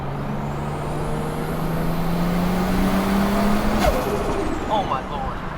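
A 500hp Toyota Chaser JZX100 accelerating hard in third gear, its engine note rising steadily and loudly before a sharp shift, with people speaking over the run.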